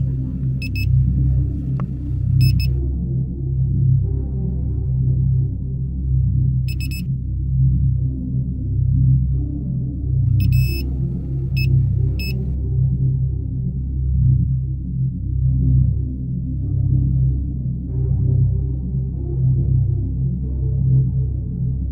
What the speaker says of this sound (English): a manual electronic device, which beeps when its signals detect the presence of metal.